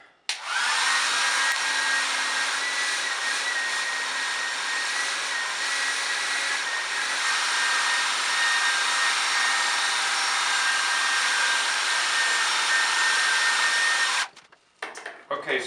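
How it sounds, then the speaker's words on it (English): A household hair dryer blows steadily and loudly for about fourteen seconds, used to heat plastic tubing for bending during a DIY radiant floor heating install, then cuts off abruptly with brief handling noise. "So I brought down my wife's hair dryer."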